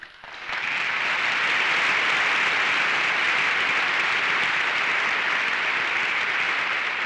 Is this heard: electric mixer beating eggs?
no